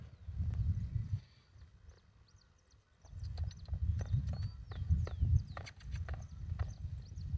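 A Crioulo horse only a few days into bit training is worked in a circle, its hooves drumming in a low, steady rhythm. There is a short lull, then the thudding comes back loud and close, with a few faint higher sounds on top.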